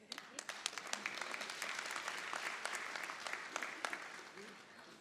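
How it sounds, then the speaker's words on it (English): Graduation-ceremony audience clapping in a large hall, a steady wash of many hands sustained for several seconds at moderate distance, with a voice faintly present. "yes, you can clap, please"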